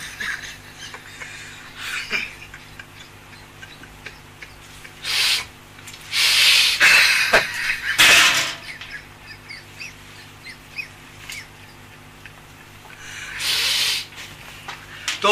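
During a laughter yoga session, voices imitate a horse's neigh in a 'horse laughter' exercise: several loud, breathy whinnying bursts separated by quieter pauses.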